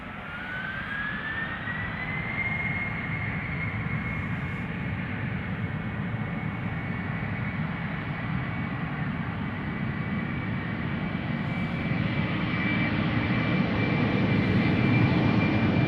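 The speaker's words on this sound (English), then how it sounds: "And another Embraer lining up behind us. KLM flight 1059, Embraer 190 outbound to Bristol." A KLM Embraer 190 jet lines up on the runway at Schiphol Airport, a loud steady engine roar with a rising whine that holds throughout, close and continuous with no talk.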